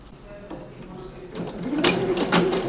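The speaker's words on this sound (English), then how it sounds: "for the machine hem we're going to stitch along here" Sewing machine stitching a machine hem along fabric, a short rising mechanical whir with rapid clicking that grows louder toward the end.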